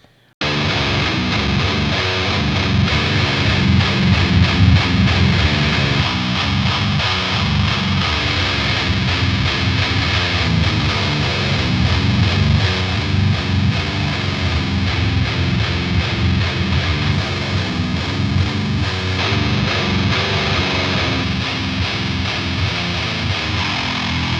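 Heavy, low-tuned distorted electric guitar played through an Otto Audio amp simulator, continuously with thick, saturated tone and chugging chords, loud and steady throughout.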